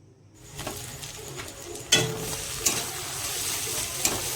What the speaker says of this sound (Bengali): এবার টমেটো কুচিটাকে দিয়ে হালকাভাবে ভেজে নিব